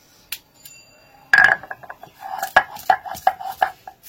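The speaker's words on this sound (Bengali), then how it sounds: "যেহেতু আমি শিলনোড়ায় বাটছি," Spices for sukha chicken are ground by hand on a shil nora grinding stone, giving close, sharp stone knocks that fall into a rhythmic series of clacks after one louder scrape.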